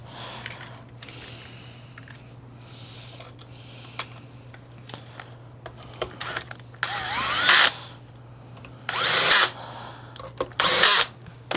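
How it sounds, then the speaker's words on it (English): A power drill driving transmission screws back into an upside-down Kirby vacuum, several short loud whirring bursts near the end after quieter handling clicks and taps, with a low steady hum underneath. "we are going to put the transmission screws back in"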